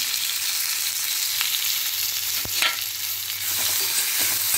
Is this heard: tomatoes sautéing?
yes